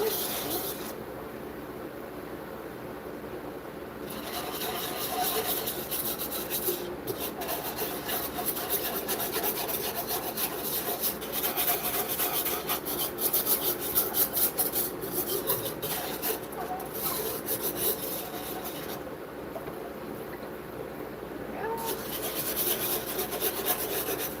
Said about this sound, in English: Whisk a little bit in at first, just to make sure that I get all the lumps out